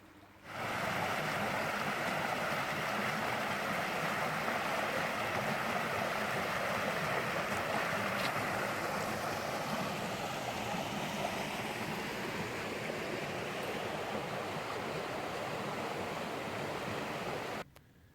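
A creek in Raven Rock State Park, North Carolina, flows with a steady, even wash of water that holds at moderate loudness for about seventeen seconds, with no voices.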